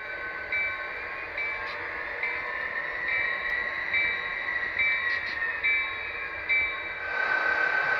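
A model train runs on a layout, with a steady mechanical hum and a faint recurring chime or whistle tone over it. A louder burst of sound comes in near the end, and no one speaks.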